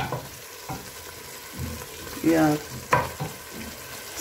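Beef pilau with tomato paste cooking in a pot, a quiet sizzle with a few stirring scrapes and clanks, someone talking briefly over it.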